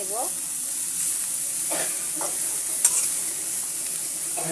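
Papaya bhaji sprinkled with turmeric sizzles steadily in a pan while a spatula stirs it in a few soft scraping strokes, with one sharper clink partway through; close and moderately loud, no voices.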